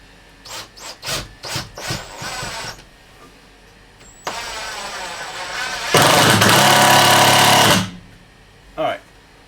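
A drill bores into a wood batten inside a camper van in two sustained bursts, the second louder and harsher, after a few sharp knocks and handling sounds.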